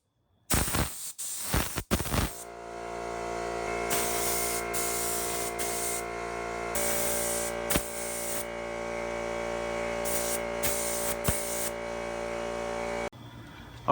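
A cheap Harbor Freight spray gun fed by a cheap Harbor Freight compressor fires in several loud hissing bursts of spray, each lasting one to three seconds and separated by short pauses, over a constant tonal hum from the compressor.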